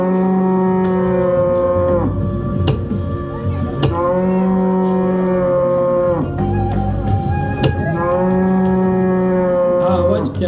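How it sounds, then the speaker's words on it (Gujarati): A cow moos in distress, giving three long, loud, drawn-out calls with short pauses between them, against a steady background. "આ તો ગાયનો રડવાનો અવાજ છે."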